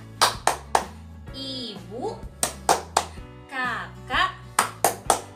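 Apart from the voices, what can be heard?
children clapping the family clap rhythm (tepuk keluarga)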